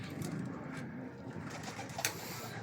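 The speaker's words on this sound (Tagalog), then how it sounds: "Kawawa po mga ibon oh." Racing pigeons cooing softly in a loft, low murmuring calls under steady background noise, with a brief flutter near the end and no talk.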